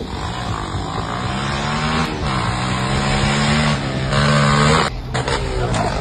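A car drifting, its engine holding a steady droning note that shifts in pitch as it slides, loud and continuous with a brief surge near the end.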